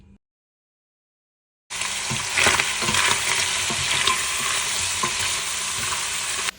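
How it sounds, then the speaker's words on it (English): After a brief silence, onions and meat hit hot oil in a pot and set off a loud, continuous, crackling sizzle that stays close and even, with faint stirring noises mixed in and no talking. "now that I've added my onions and my meat together, we're gonna wait for it to get brown"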